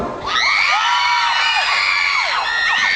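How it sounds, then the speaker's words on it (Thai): A crowd of young voices screams and cheers loudly and continuously at a concert in a Phuket shopping mall, high-pitched shrieks and whoops rising and falling throughout. "ขอเสียงกรี๊ดหน่อยเร็ว"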